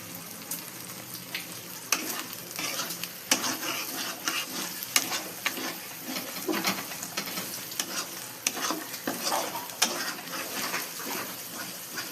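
Masala stirred and fried in a pan, with a steady sizzle broken by frequent scraping and clinking strokes of the spoon, close and continuous with no talk.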